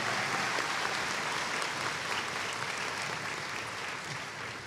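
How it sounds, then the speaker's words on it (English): A commencement ceremony audience claps in steady, dense applause that holds at an even level for about five seconds, fading slightly toward the end. "Please join me in a round of applause for these dedicated individuals who serve us quite well."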